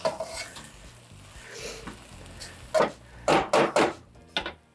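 Raw onions tossed and stirred into a pan of shrimp fried rice: soft sizzle underneath, then several loud, close scraping stirs in quick succession, with no voices.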